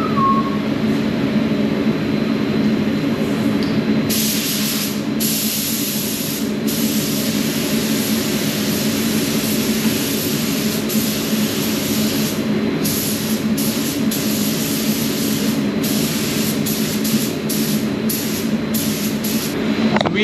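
A spray gun sprays water-based car paint, hissing steadily and close by for the whole stretch, with sharper bursts of airy spray cutting in and out over the constant rush.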